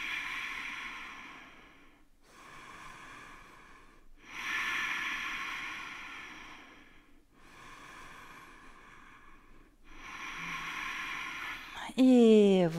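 Slow, deep breathing during a hatha yoga pose: about three full breaths, each a long, airy inhale and exhale that swell and fade, close and fairly loud in a quiet room, with a brief bright sweeping tone at the very end.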